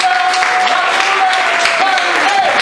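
A church congregation at a gospel breakfast gathering claps and cheers loudly and continuously, with high whoops and a shouted voice rising above the dense applause.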